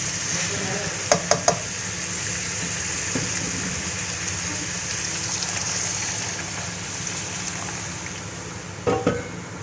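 Chickpeas and their reserved boiling water go into frying masala in a pan, giving a steady, loud sizzle throughout with a few sharp clinks of a utensil at the start and end.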